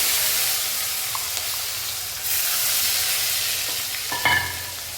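Green chillies and curry leaves sizzle in hot oil for a street-style sandwich filling, a steady close frying hiss throughout with a brief louder spatter near the end.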